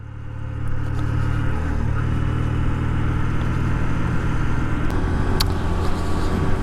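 A Honda CB125F 125cc motorcycle engine hums steadily while riding, a loud, continuous low drone with light road and wind noise and no talking.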